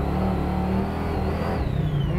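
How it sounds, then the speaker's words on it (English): A 1973 Plymouth Road Runner engine revs hard as the throttle is hit, a loud, steady, deep rumbling roar with a brief rising pitch, close by and alone. "We gotta hit that throttle one more time."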